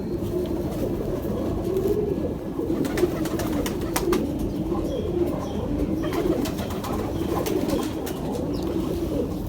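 Pigeons give steady, low repeated coos, close and continuous throughout, with a few faint clicks and rustles behind and no voices.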